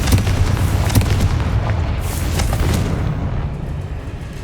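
Confringo spell explosions blasting spider sacks in a video game, a dense run of loud booming blasts rolling together without a break, with no talk.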